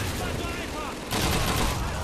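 Gunfire in Call of Duty 2 during a docks clearing mission: a dense run of loud, close shots that grows heavier halfway through, with no voices over it.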